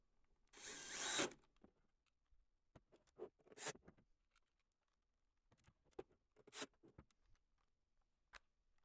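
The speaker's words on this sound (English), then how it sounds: "We'll slide the back panel on and replace the bottom three screws." A power screwdriver drives screws to refit the back panel of a ULN/LIO-8 audio interface: a short quiet whirring burst, then scattered faint clicks and brief buzzes of handling, close and alone with no talk.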